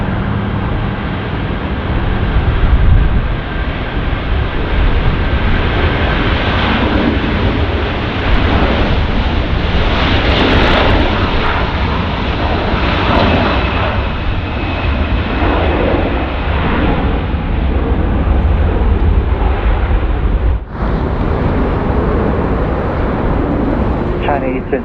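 A China Eastern heavy jet takes off from runway 24 left at Los Angeles International Airport, producing a loud, steady, broadband roar that lasts throughout, with radio voices heard over it.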